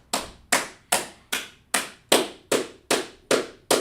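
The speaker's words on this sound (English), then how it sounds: "let's clap it up for them brothers right there" Slow, deliberate clapping at a classroom lesson, about ten evenly spaced sharp claps at roughly two per second, close and clear with nothing else heard between them.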